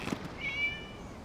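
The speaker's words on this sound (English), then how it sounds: "It was just a cat." A single short cat meow in Genshin Impact, clear and fairly close, rising and then fading, heard alone without speech.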